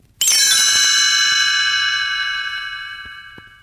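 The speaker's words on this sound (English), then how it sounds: "You will know it is time to turn the page when you hear the chimes ring like this" A single bright chime rings out clearly, then slowly fades as its shimmering tone lingers.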